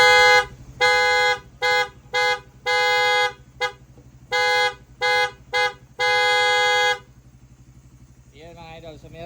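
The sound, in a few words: custom vehicle horn sounding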